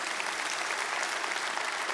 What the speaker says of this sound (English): round of applause for Jonathan Ingram